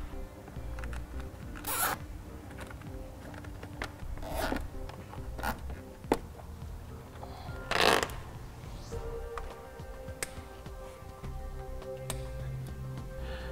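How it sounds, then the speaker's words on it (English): Zip ties ratcheting tight as trailer brake controller wiring is bundled inside a vehicle, away from the engine: a few separate quick zipping rasps at close range over a low, steady background hum. "we'll go ahead and take a moment to zip tie our wires up and bundle them up"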